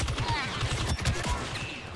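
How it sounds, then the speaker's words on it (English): Rapid bursts of gunfire in a team-based shooter video game, with dense overlapping shots in quick succession, loud and close, with a voice briefly audible. "That shotgun hurt."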